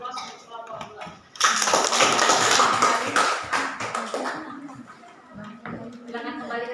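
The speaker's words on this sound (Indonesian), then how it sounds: "Kita berikan aplaus untuk kelompok 2" A classroom of students applauds a group that has just finished its presentation, a dense burst of clapping that swells and fades over a few seconds, with people talking before and after.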